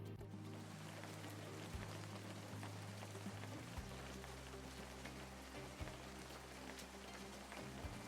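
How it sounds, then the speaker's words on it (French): Steady, soft patter of rain falling, a continuous fine hiss with scattered drops and a low rumble beneath, no voices. "Eh oui, c'est la pluie qui tombe."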